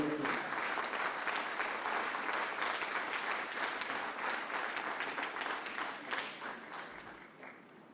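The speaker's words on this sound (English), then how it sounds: "give the Commissioner of Culture, Mr. Louis E. LaBase, a round of applause as he comes to stage" Crowd at a St. Maarten cultural event applauding as the Commissioner of Culture walks to the stage, a thick, steady roar of clapping that gradually fades over the last seconds.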